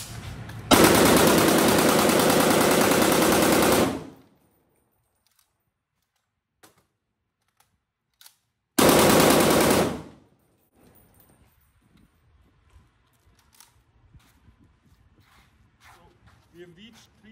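A CW39 firearm fires rapid bursts during an endurance test: one long run of shots lasting about three seconds, a pause, then a shorter burst of about a second, loud and close, followed by faint handling clicks and small knocks.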